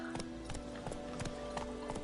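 Hooves of a horse in the Witcher 3 video game clip-clop in an even walking rhythm, moderately close over a low background hum, with no voices.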